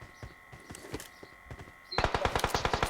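Automatic gunfire in a shooter video game, scattered single shots early on, then a rapid steady burst of loud rounds near the end, with a faint voice low in the mix.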